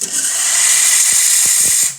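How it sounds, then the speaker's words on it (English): Steam wand on a freshly tuned-up Pasquini Livia 90 espresso machine blasts a loud, steady high hiss for about two seconds, with a few soft clicks underneath before it tails off. "Nice strong steam."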